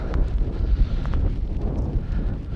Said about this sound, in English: I wouldn't even say it was a storm, it was just a bit windy.